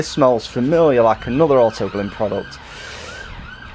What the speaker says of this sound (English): Apologies for the sirens there.